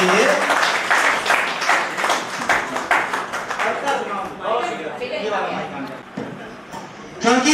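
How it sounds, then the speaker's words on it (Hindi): Clapping from an audience at a poetry festival in Palam, Delhi, greeting an eight-year-old girl; a steady wash of applause runs throughout, mixed with loud talking voices over it. "जोरदार तालियां बजाइए भाई इस बच्ची के लिए।"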